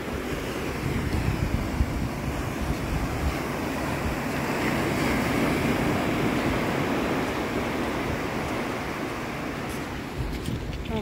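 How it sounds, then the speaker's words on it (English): Atlantic Ocean surf rolls onto a beach at St Augustine at sunrise, a loud, continuous wash of breaking waves mixed with gusting wind buffeting the microphone, with no voices. "But this is the Atlantic Ocean."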